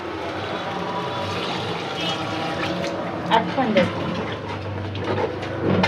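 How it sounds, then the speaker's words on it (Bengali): Water poured into a pot of chicken biryani, a steady splashing, gurgling pour under a continuous bubbling cook, with a few louder splashes midway and voices faintly in the background. "আমি জল দিয়ে দেবো"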